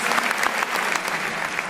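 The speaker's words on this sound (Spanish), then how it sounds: "Fuertes aplausos a nuestro Dios." Steady, dense clapping from a church congregation fills the space, sustained and fairly loud throughout with no individual voices standing out.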